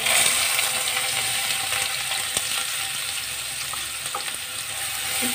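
Chopped onion frying in hot oil with toasted cumin seeds and asafoetida, a steady close sizzle with occasional scraping ticks and small pops, no one speaking.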